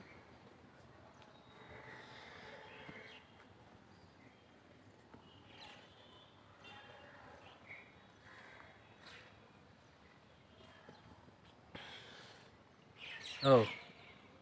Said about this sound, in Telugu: గోరువంకలు గొర్రెంకలు అంటారు కదా అవే అవి